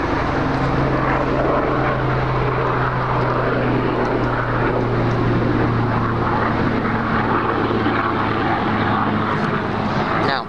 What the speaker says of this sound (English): Let this helicopter go by.